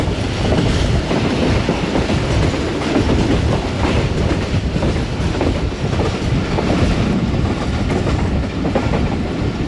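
The 48 Down Rehman Baba Express runs through Chak Pirana railway station on the main line, a loud, continuous roar of rolling wagons with rhythmic clickety-clack and wind buffeting, heard close and without speech.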